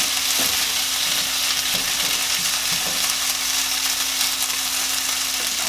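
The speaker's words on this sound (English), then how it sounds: "They're dancing in the pan here. Letting them brown up." Lit'l Smokies cocktail sausages brown in a pan with a continuous close hiss of sizzling fat, a faint steady hum underneath, and a few soft clicks near the start.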